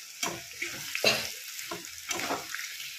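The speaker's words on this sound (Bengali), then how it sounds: "আলুটা মোটামুটি প্রায় ভাজা হয়েই এসছে" Potato pieces frying in a pan for a white potato curry, with soft sizzling that comes in short bursts as they are stirred, close and fairly quiet.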